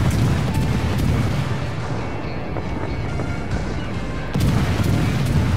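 Naval gunfire from the destroyer HMAS Vampire in World of Warships, a steady dense rumble of booming salvos with a louder burst of firing near the end, no voices.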